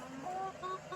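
A Cinnamon Queen hen clucks softly in short, tonal murmurs, fairly quiet and close, with no talking.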